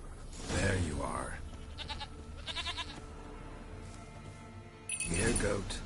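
A goat bleats a few times in The Witcher video game, the calls short and near, with a voice talking at the start and end.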